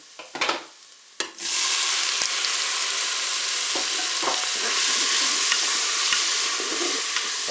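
Mussels hit a hot Cookeo pot with tomato spaghetti and garlic, a short clatter and stir followed by a loud, steady sizzle that carries on to the end.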